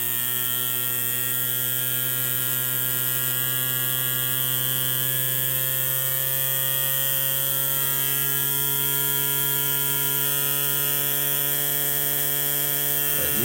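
A Bissell vacuum brush roll motor running on a test supply gives off a steady electric hum with a buzzing whine that holds unbroken throughout, close and alone with no voices.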